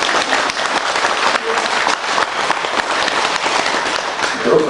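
Congregation clapping at a Buddhist temple Sunday service, a dense, close burst of applause with scattered louder claps running for several seconds.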